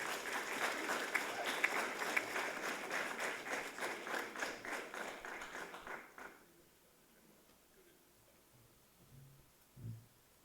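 A conference audience claps for a team, a steady patter of many hands for about six seconds before it fades out into a quiet room with faint rustling.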